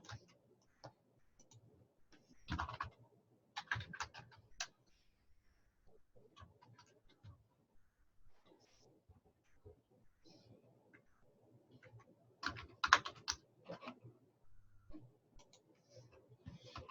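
Typing on a computer keyboard while entering details into an online shop setup form, with scattered clusters of soft, close key clicks separated by quiet gaps and some faint talk.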